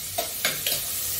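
Onions fry in hot oil, giving a close sizzle with a few quick stirring scrapes.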